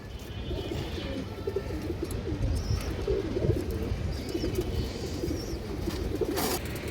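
Khaki pigeons kept for sale coo repeatedly in low, throaty rolling calls, several birds close by overlapping in an uneven rhythm, with a few higher chirps mixed in and no speech.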